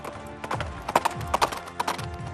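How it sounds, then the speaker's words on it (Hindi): A mare's hooves clip-clop at a Shiva temple, Khereshwar Mandir, in a string of close, distinct strikes spaced irregularly, with a few quick double hits, heard alone without voices. "घोड़ी की टाप सुनाई देती है, खड़ाओं की आवाज सुनाई देती है।"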